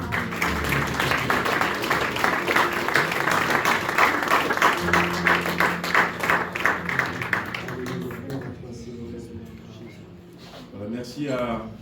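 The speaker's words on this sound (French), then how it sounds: "Est-ce qu'on peut donner un applaudissement à notre Seigneur?" A church congregation applauds together in a loud, dense wash of clapping that holds for several seconds, then thins out and fades as a voice speaks over it.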